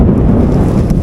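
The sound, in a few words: heavy rain and wind while riding a motorcycle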